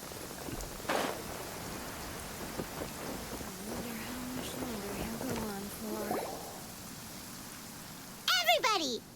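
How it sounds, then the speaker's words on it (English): Steady rain falls across the Genshin Impact game world as an even wash of hiss, with soft game chimes and tones over it, and a character voice breaks in near the end. "Oh, it's raining out."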